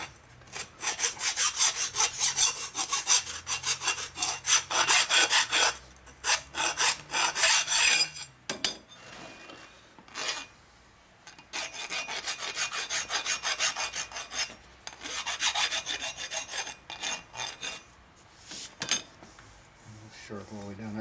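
A hand file rasps across the sharp edges of a Harley shovelhead engine case part to deburr it, in loud close strokes that come in bursts, with brief pauses between runs.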